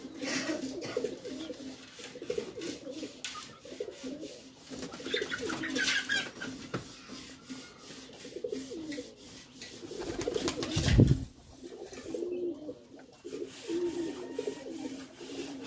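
Pakistani breed pigeons coo repeatedly in a loft, soft low rolling calls overlapping throughout, with faint rustling and occasional wing or handling noises nearby.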